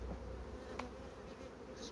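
Steady honeybee buzzing hums continuously at moderate level, a close droning drone with no voices, from a small colony working around its hive.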